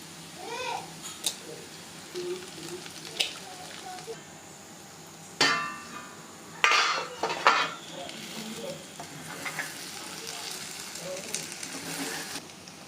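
Eggs are cracked into a pan of boiled potatoes and spices for potato egg curry, bringing sharp knocks and bursts of sizzling amid utensil clatter, while a voice talks intermittently.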